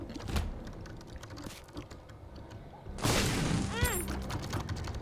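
Typing on a new computer keyboard: a steady patter of close, sharp key clicks throughout, growing busier and louder in the second half, with a brief chirping sound near the end.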